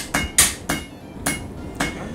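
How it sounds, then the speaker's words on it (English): A hammer strikes the ridges of a forged wand twist, five sharp metallic blows spaced irregularly with short ringing decays between them, close and clear without any voices. "I am hammering down the ridges on the twist."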